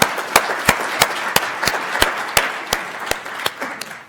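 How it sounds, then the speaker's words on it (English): Applause from an event audience at a welcome session and fireside chat, a continuous crowd patter punctuated by regular loud, sharp claps from someone close by, fading slightly near the end. "Let's give them a round of applause."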